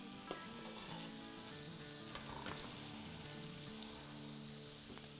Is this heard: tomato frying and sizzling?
yes